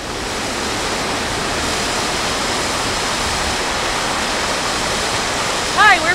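A river near glaciers in Montana's Glacier Park area rushes with a steady, full broadband wash, close and continuous, with a faint bird chirp near the end.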